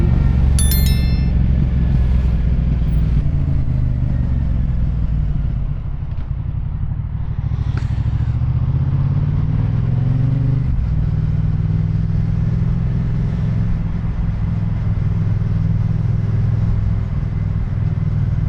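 Heavy traffic jam with cars and motorcycles, a steady close engine rumble with idling and occasional revving, brief horn-like tones early on, continuous throughout with no talk.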